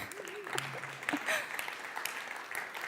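An audience at a business event in Amsterdam claps, a scattered, moderate patter of hands with voices over the top.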